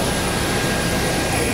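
Aircraft engine noise fills an international airport in Bangkok, a loud, steady jet roar with no voices over it.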